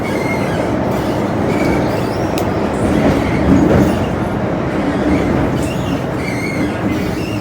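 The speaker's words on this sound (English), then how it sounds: "Another train." An MTR Island Line M-Train pulls into Quarry Bay station, a loud steady rumble of rolling wheels with faint squeals and clatter, close by and filling the clip alone.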